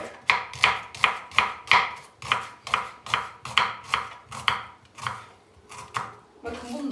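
A knife chops an onion into julienne strips on a cutting board, about a dozen crisp, evenly spaced strokes, close up, slowing near the end.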